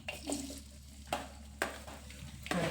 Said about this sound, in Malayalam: നന്നായിട്ട് ഇഞ്ചിയും വെളുത്തുള്ളി ആഡ് ചെയ്ത് കൊടുക്കുക. എന്നിട്ടൊന്ന് അതൊന്ന് മൂത്ത് വരട്ടെ